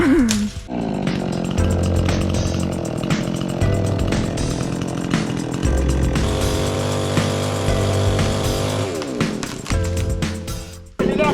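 A chainsaw roars continuously at close range cutting tree branches, its pitch wavering as it bites into wood and briefly idles, with faint voices now and then.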